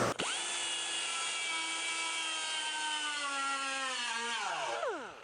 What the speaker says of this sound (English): A little more grinding right there.